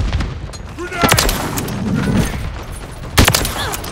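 Rapid bursts of gunfire and booming reports in Call of Duty MW3 multiplayer on the Rust map, loud and close, with a heavy volley near the start and another near the end, under shouted voice callouts.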